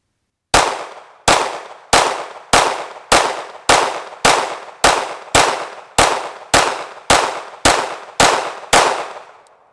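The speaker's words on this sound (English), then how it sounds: "All right, now I got 15 9mm tracer rounds in my Glock 17." A Glock 17 fires 9mm tracer rounds into a sandbag outdoors: fourteen loud, sharp shots at a steady pace of about one every 0.6 seconds, each with a brief decaying echo, no talk.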